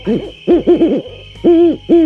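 Owls hoot in close, loud bursts: a short series of rapid, wavering hoots followed by two longer, rounder calls, with a faint steady hum underneath and no voices.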